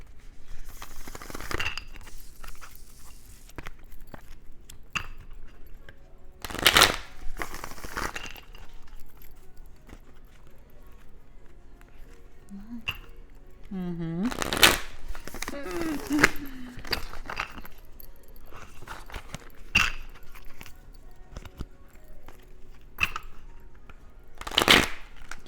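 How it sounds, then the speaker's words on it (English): Chakra oracle cards shuffled by hand in a sequence of crisp riffling bursts spread across the clip, close and fairly loud, with someone talking in between. "let's pull a chakra card for you guys."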